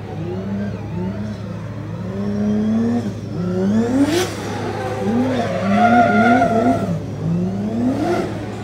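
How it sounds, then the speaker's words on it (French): Drift car at a French drift championship round sliding and heating its tyres, with a loud sustained engine roar and shifting pitch, rising revs and tyre squeal throughout. "Et il fait chauffer la gomme petit à petit."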